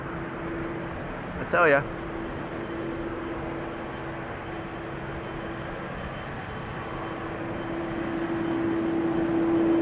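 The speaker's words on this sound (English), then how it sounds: "This is a KLM Asia 777." A KLM Asia Boeing 777 airliner departing Amsterdam Schiphol Airport gives a steady, broad engine roar with a sustained tone that slowly builds louder, while someone briefly speaks over it.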